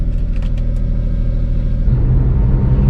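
A first-generation Smart ForTwo Passion 450 idles with a low, throbbing rumble, then its small engine swells to a noticeably louder, deeper drone as it pulls away, heard close up with no talking.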